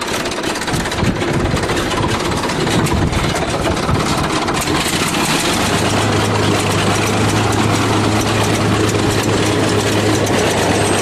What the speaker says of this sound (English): Listen to that thing running at 100 RPM idle.